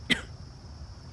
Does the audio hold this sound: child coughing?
yes